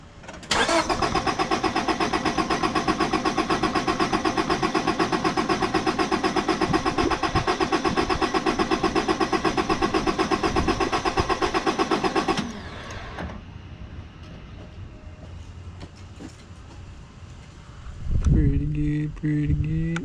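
A 2001 Honda Civic 1.7L with a suspected head gasket fault and intermittent overheating cranks loudly and steadily for about twelve seconds, then falls quiet to a low background hum before a brief rumble near the end.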